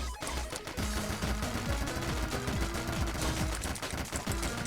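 Rapid bullet fire in the video game The Slimeking's Tower, a fast, steady stream of small clicky shots over game music, sustained throughout at moderate level.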